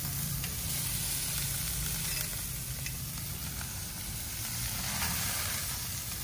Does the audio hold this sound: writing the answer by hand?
no